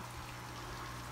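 Dechlorinated water pours steadily into an aquarium filter, a continuous close splashing rush with a low hum underneath, alone and unbroken throughout.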